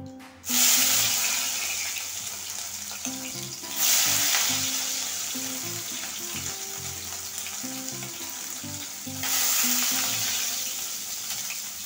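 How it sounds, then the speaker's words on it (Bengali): Soybean chunks frying in oil in a home kitchen pan make a steady close sizzle, broken by a few louder bursts of crackle as the chunks are stirred or moved. "এখানে আমি এই তেলে সোয়াবিনটা ভেজে নেব।"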